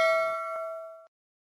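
A bright bell-like ding for a subscribe bell icon rings out once with a clear ringing tone, then a softer second chime follows and both decay together before cutting off abruptly.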